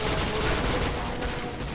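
Video game gunfire during a run of headshots: a dense, continuous burst of shots with no pauses, loud and close, filling the whole stretch.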